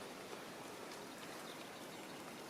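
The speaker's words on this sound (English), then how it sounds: "I don't know if you could hear the cuckoo just then over the noise of the rain" Steady rain pours onto a rough country lane, a dense even hiss of drops with no break and no voices.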